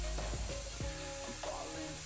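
Ginger-garlic paste masala fries in a pan for a Bengali egg curry as turmeric is added. A steady close sizzle with a few soft stirring scrapes, no voices.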